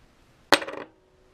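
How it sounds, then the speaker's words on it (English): A big hammer knocking out the rear part of a Virago XV1000SE, heard as a single sharp metallic strike that rings with a short, quickly fading tail against a quiet background. "then you get a big hammer and it comes out"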